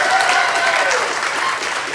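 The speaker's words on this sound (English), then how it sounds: "Can we have a round of applause for Mike?" A crowd at a May Day rally in Edinburgh applauds the compere, a loud continuous wash of clapping with a faint voice or tone running beneath it.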